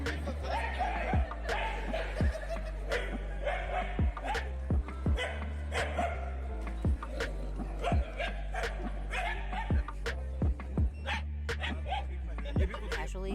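Several street dogs bark at a robot dog in a noisy, overlapping chorus, some yips close and others farther off, over steady background hum and mechanical whirring.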